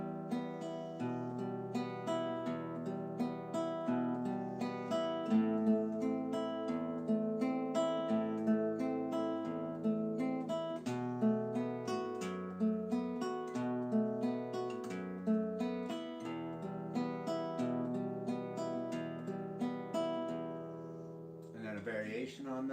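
Fingerpicked guitar arpeggios ring out alone at a soft level, with the thumb on the bass strings and the fingers picking a steady, repeating rolling pattern of clear, sustained notes.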